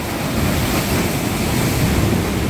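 Ocean surf washes against a rocky fishing shore in a loud, continuous broadband roar, mixed with strong wind buffeting close to the microphone and no speech.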